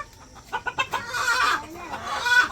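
Village chickens cluck and squawk in agitated bursts as they are netted and caught for sale, with rapid clucks early and louder flustered calls after, close by and without speech.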